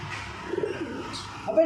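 Young pigeons in a loft give a few soft, close coos over quiet background murmur.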